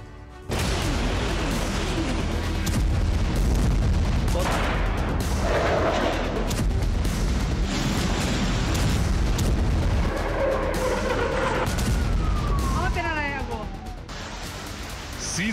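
Rocket launcher and artillery fire at the Thailand-Cambodia border, a sustained roar of distant booms and rumbling blasts under wind noise, with faint whistling streaks near the end.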